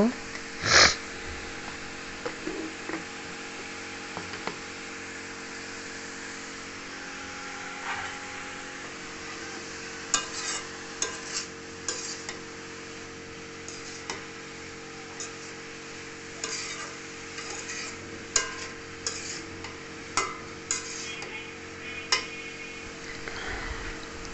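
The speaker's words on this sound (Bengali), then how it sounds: "মূলা শাক কুটে ধুয়ে আমি কড়াইতে দিয়ে দিছি আর এখন আমি পরিমাণ মতন লবণ দিয়ে এটা কিছুক্ষণ ভাপিয়ে নেব" Chopped radish greens with salt are stirred in a wok for a Bengali stir-fry, giving a faint hiss and intermittent scraping and tapping of a spatula, close by, with a voice talking now and then.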